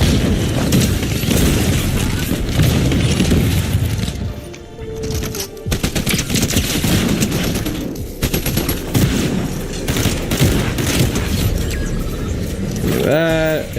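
Heavy hand cannon gunfire and booming blasts in a video game come through as dense, loud, continuous bursts. A voice talks underneath and the barrage barely pauses.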